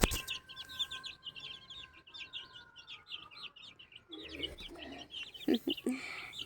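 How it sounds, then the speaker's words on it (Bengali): Hens cluck softly while chicks cheep in a busy, high-pitched chorus, close by; a brief voice and rustle come near the end. "এই মুরগি বাচ্চাগুলোকে নিয়ে ঘুরে বেড়াচ্ছি"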